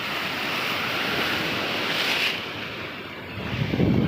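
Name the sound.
sea waves at Ross Island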